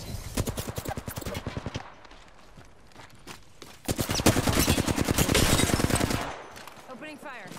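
Gunfire in the video game Apex Legends, fast rhythmic automatic bursts, a first stream, a brief pause, then a longer louder burst, close and crisp with a short voice line near the end.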